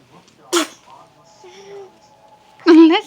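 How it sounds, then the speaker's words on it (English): A baby sneezes twice, a short sharp burst near the start and a fuller, louder one about two seconds later, with a faint tone and soft background noise between them. "Baby sneezes."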